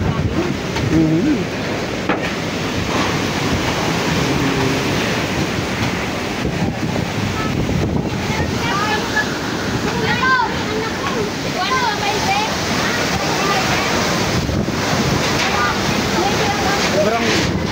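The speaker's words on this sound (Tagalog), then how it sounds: "Sobrang kusog ning paro sa makayan. Yung dagat nasa bubong na." Super Typhoon Uwan's violent wind roars without a break, mixed with the heavy churning rush of a sea surge, loud and close with buffeting against the microphone, and voices faintly audible beneath the din.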